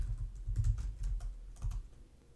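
Someone types code on a computer keyboard: a few clustered bursts of close key clicks and thumps, heard alone without talking.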